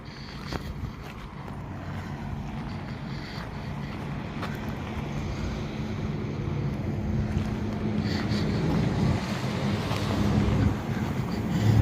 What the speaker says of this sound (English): Definitely an aircraft.